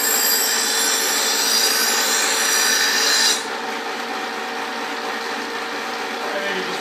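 A blade rasps against a sharpener in a continuous, close, gritty rubbing that drops to a softer grind partway through.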